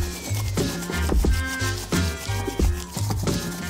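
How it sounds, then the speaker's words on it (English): Brisk back-and-forth rubbing strokes scrub across a Teak Tuning fingerboard surface as it is wiped clean with 99% rubbing alcohol, a close, rhythmic scuffing repeated several times. "I need to clean the surface of the fingerboard with nothing but rubbing alcohol."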